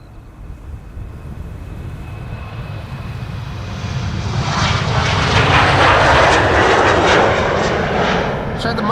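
An Emirates Boeing 777 jet roars past at Amsterdam Schiphol, its engine noise swelling from a distant rumble to a loud broad rush, with people talking over it.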